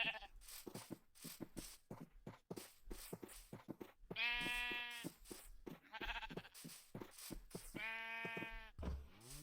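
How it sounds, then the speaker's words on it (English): Minecraft sheep bleat twice in long, wavering baas amid rapid game clicks, thumps and footsteps in a busy survival-farm scene, with no talking. "Alright, I'll get myself some sheep."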